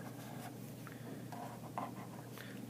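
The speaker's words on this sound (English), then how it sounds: "Let's write that out." Marker or chalk writing on a board in a classroom workshop, a steady faint scratching of strokes with small bursts against a constant room hum, no talking.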